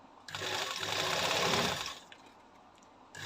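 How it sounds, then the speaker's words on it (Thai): Sewing machine running a straight stitch, a close whirring mechanical hum that swells for about two seconds and then drops to a quiet idle before restarting. "ลองกันก่อนนะครับ อันนี้เย็บตรงนะครับ"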